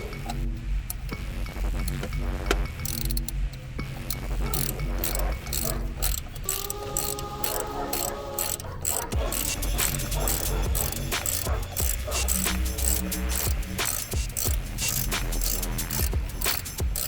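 A ratchet wrench clicks rapidly and continuously as it tightens a 19 mm bolt on the lower control arm of a 2006 Toyota Camry 3.3L, loud and close, with dense metallic ticking throughout.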